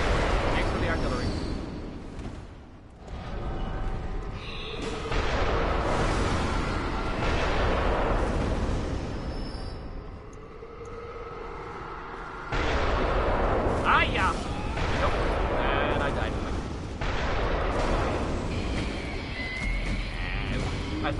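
In-game artillery fire from Bloodborne booms and crashes repeatedly in heavy bursts for about twenty seconds, loud and dense throughout, with no clear speech.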